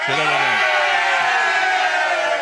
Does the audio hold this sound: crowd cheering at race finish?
yes